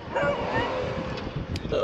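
A beagle barks at other dogs somewhere out across the water during a kayak fishing trip, sharp but short, heard from a distance against outdoor background noise with a voice nearby.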